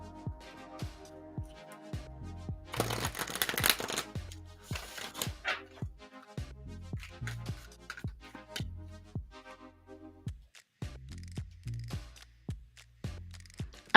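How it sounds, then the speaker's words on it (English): Tarot cards being shuffled up close: a steady run of soft slaps and taps, with a brief fluttering riffle early on, then more rhythmic slapping. "One more shuffle."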